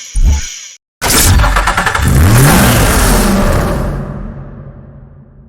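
A Ford 3.5-liter V6 engine in the Need for Speed Hot Pursuit Remastered racing game: a short burst of sound, a brief gap, then a loud rising rev that sweeps up, holds and fades away.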